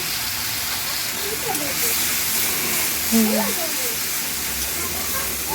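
Kashmiri chili powder and spices for an egg curry fry in a pan, giving a loud, steady hiss and sizzle close by, with a person talking over it.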